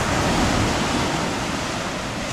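Sea waves wash against the shore where anchovies are being fished, a loud continuous roar of surf and rushing water filling the whole moment without any talking.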